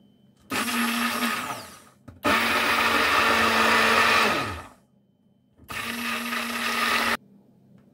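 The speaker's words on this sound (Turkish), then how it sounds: "İkinci defa daha dondurmamızı karıştıralım." Homemade lemon ice cream whipped with an electric mixer: three loud, steady motor whirs separated by short pauses, the middle burst longest and winding down at its end.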